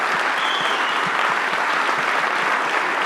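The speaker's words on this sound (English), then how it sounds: "a mindful applause for Jon, and thanking him" An audience at a United Nations mindfulness gathering gives dense, steady applause that holds at an even, fairly loud level throughout without cheering.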